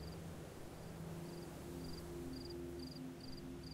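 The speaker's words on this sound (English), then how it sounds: "I hear crickets." Steady high insect-like cricket chirps in regular pulsed bursts from the video game Antichamber, faint and continuous over a quiet hum, with no talking.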